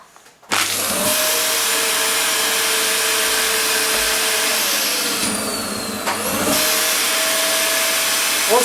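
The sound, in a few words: vacuum cleaner sucking air out of a mylar food pouch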